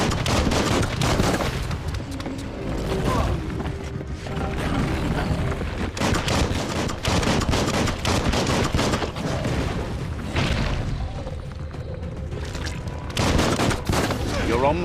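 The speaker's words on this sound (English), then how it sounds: "Bullets everywhere." Bullets fly everywhere in the action game Biomutant: dense, sustained bursts of rapid gunfire and booms roll on almost without pause, with mechanical clatter mixed in and a voice talking at times underneath.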